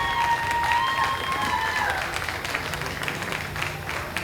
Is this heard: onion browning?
no